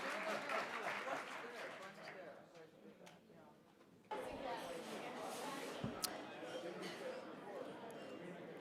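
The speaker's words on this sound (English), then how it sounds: "give a warm round of applause for our diplomacy panelists" Audience at a U.S.–South Korea policy forum applauds its diplomacy panelists: dense, steady clapping fills the room throughout, dipping briefly before swelling again with renewed strength.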